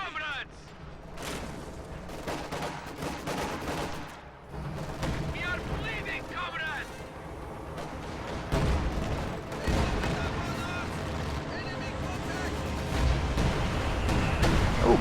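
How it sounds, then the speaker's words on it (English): A bomb run and artillery fire in a strategy war game with a T-34 tank and mechanized regiment units: repeated booms and gunfire crack and rumble steadily over a battlefield din, with a voice talking over it. "Bomb run actually destroys the mechanized regiment headquarters."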